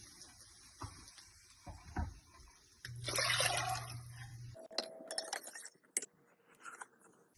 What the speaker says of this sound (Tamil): இதுக்கு தேவையான அளவு தண்ணி சேர்த்துருவோம்.